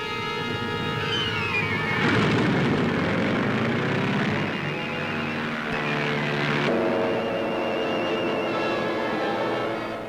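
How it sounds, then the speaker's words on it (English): Carrier planes make ready and take off from an aircraft carrier deck during a wartime raid near Formosa. Loud, continuous propeller engine roar swells and shifts in pitch as aircraft pass close by, with no talk. "Closing in now for heavy air blows, carrier planes make ready and take off."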